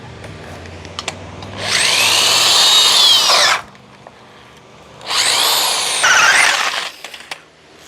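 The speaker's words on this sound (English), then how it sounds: "utilize this here to drill out the intake more on the other side of the air filter" A power tool whines loudly in two sustained bursts of about two and three seconds as it cuts into a car's air intake, with brief quiet clatter between and around the runs and no talk.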